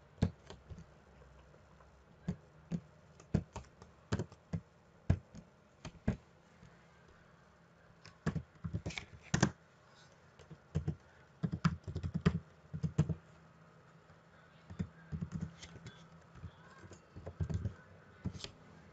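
Keys on a computer keyboard are typed in irregular bursts of close, crisp clicks, including a Ctrl S shortcut, with dense flurries of keystrokes separated by short pauses over a quiet room.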